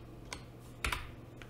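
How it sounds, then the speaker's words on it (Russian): Digits typed on a computer keyboard: a few sparse, close key clicks, with a quick double tap in the middle, over a quiet background and no speech. "сейчас вместо иксов мы вводим нужные цифры"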